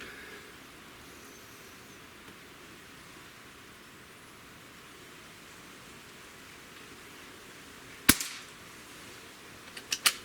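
A Beeman QB78S CO2 air rifle fires a single sharp, loud crack late in the stretch after quiet hiss. Several smaller mechanical clicks of handling follow shortly after.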